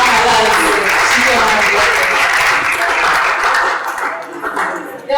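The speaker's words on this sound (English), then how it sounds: "Let's give a better round of applause to Agbalanze, Chike" Audience applauding a guest named Agbalanze Chike Madueke at a talk on inclusion and development, a dense, steady clatter of many hands lasting several seconds before tapering slightly at the end.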